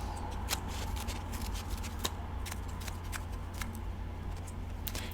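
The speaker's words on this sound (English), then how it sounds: "so I have just used some scissors, and be careful with that" Scissors snip through jelly cube slime in a run of sharp, close, evenly spaced clicks over a quiet steady background hum.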